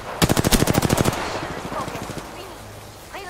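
Automatic weapon fire in the video game Apex Legends, a loud, rapid burst of about a dozen evenly spaced shots over roughly a second, followed by fainter scattered shots and game sounds.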